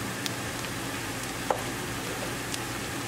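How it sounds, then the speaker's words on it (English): Onion with spices frying in a pan for aloo methi bhurji gives an even, continuous sizzle with a faint tick or two, steady and close, without any talking. "altogether cooking our onion for 2 minutes"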